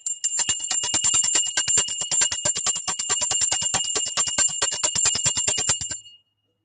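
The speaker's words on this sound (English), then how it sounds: "After we ring this bell," A bell rung rapidly and continuously for about six seconds, a bright metallic ringing with steady strikes, fairly loud and close, with no talking, then it stops abruptly.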